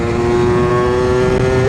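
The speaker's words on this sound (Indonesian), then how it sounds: "Tapi emang ini motor suaranya galak loh." Suzuki Satria 2-stroke motorcycle with a ported, drilled piston revving loudly close by, a harsh steady engine note held for nearly two seconds and rising sharply in pitch at the very end.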